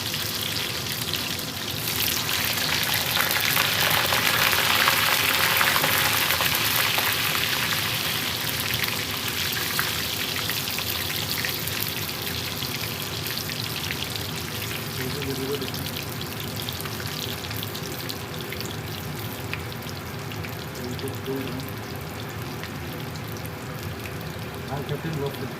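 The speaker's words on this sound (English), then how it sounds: "We'll fry the peri fries, and after that we will add the masala to it." Peri fries frying in oil over a low flame, a steady hiss and crackle of bubbling oil running throughout at close range, with some background noise and possible faint voices.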